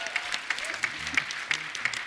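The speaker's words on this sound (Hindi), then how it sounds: "एक बार दादियों के लिए तालियां बजा दो" Studio audience applause on a comedy talk show, a burst of clapping with a steady rhythmic pulse and faint crowd noise, heard alone without talk.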